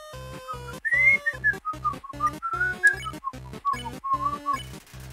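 Papyrus battle music from the video game Deltarune, a bouncy chiptune-style tune with a bright lead melody over a steady pulsing beat, playing alone at moderate volume.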